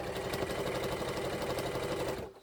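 A sewing machine stitches a bag made from old denim jeans, its steady rapid whirring hum running close and continuous before stopping abruptly at the end.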